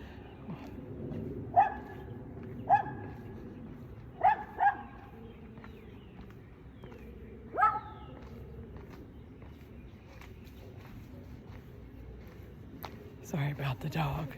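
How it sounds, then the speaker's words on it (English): Several short, sharp dog barks ring out at a moderate distance, spaced irregularly in small clusters over low, steady outdoor background noise, with a few faint, scattered sounds toward the end. "Sorry about the dog."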